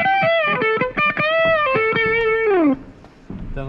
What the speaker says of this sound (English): I've got a distortion for the solo